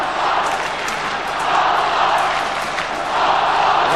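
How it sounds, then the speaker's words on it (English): A large crowd of Hawthorn supporters roars at an Australian football match at Waverley in 1990, a broad, swelling cheer from far off that rises and falls over several seconds. "Listen to that crowd."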